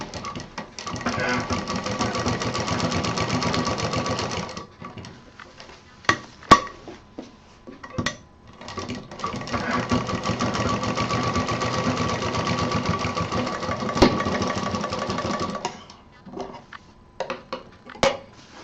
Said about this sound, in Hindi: यहाँ पे 2-3 बार मशीन चलानी है।